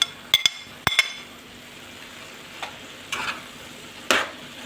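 A spoon beating onions and salt together in a bowl, heard as a few sharp clinks and taps at irregular intervals over a quiet background, close and fairly crisp.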